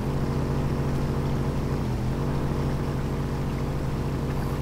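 A Volkswagen Touareg's engine revs steadily in the Spintires off-road driving game, a loud, continuous low drone with dense harmonics that holds throughout, with a brief dip and shift in pitch about halfway.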